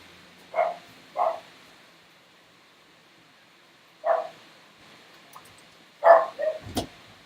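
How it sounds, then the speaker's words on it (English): A puppy barks in a few short, soft yips indoors, wanting to get out of a room, with quiet pauses between bursts and no talking. "my puppy wants to get out of the room."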